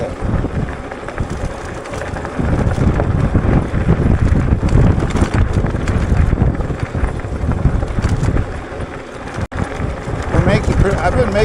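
Strong gusting wind roars across the microphone while riding a Wooken e-bike in bad weather. A loud, continuous rumble and buffeting holds for the whole stretch, with one brief dropout near the end.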